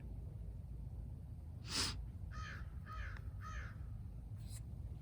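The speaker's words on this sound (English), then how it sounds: "Look how giant that bird is." A large crow caws four times outdoors, one sharp rasping call followed by a quick run of three hoarse caws and a fainter fifth, over a low steady street hum with no talking.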